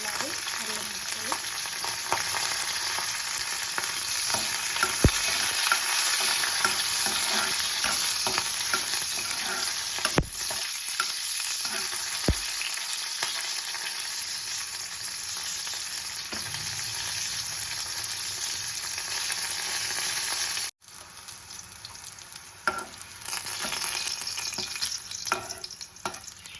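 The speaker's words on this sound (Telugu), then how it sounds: "ఆయిల్ వేడైందండి. ఇప్పుడు ఇందులో పచ్చిమిర్చి ముక్కలు వేసుకుందాము." Green chilli pieces and ginger frying in hot oil make a dense, continuous sizzle with occasional stirring scrapes, steady and close throughout without any talk, briefly dipping near the end.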